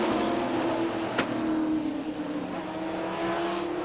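Late model race cars roar on the Beech Ridge Motor Speedway oval during a 1991 race, a loud steady engine drone with one sharp click midway and no talk.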